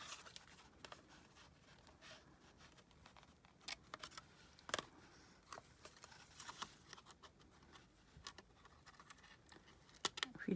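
Small scissors fussy-cut paper for a junk journal, a string of faint, close snips and crisp ticks that come in irregular clusters with no talk.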